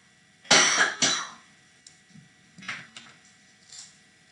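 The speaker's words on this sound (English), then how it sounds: "Sorry, I had a cough." Two sharp, close coughs in quick succession, followed by a few quieter throat-clearing sounds and small clicks.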